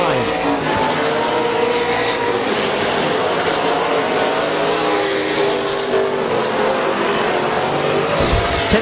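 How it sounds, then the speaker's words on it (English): Race cars roar around a speedway oval on the final lap, a dense, continuous engine drone with passing swells, loud and steady throughout with no speech. "White flag, 1 lap to go for Bob Chat in the number 75."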